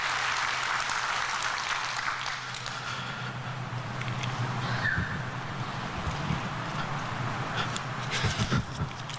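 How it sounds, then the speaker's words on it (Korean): A church congregation claps in thanks and praise, a continuous broad rush of applause with scattered sharper claps poking through, fairly loud and steady throughout. "우리 하나님께 감사와 영광의 박수 올려드리겠습니다"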